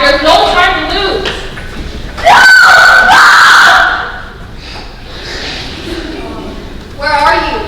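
People scream in a harsh, dramatic scene: a shrill burst of cries swells mid-clip over a murmuring crowd and gasps. Voices talk before and after the screams.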